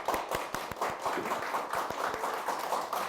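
Audience applause at a health conference, dense and steady with sharp individual claps throughout, fairly close and continuous without speech.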